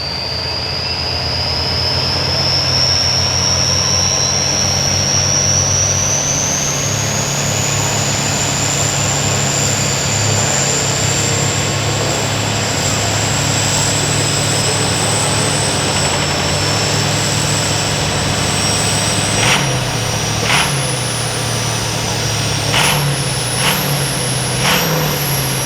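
A Cummins 6-liter diesel engine in a budget diesel challenge truck runs hard at full power, producing a loud sustained roar with a rising high-pitched turbo whine that climbs and levels off, then several sharp shifts or throttle pulses near the end.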